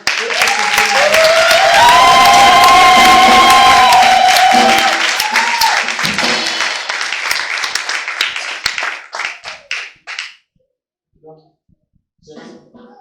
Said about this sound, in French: je voudrais juste que vous faites aujourd'hui un tonnerre d'applaudissements pour ma femme